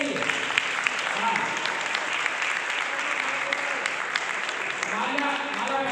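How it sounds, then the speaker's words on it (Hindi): Continuous, dense clapping from a crowd at the Salute Tiranga Foundation's fourth founding day celebration. It holds steady and fairly close throughout, with faint voices mixed underneath. "तालियां बजती रहनी चाहिए।"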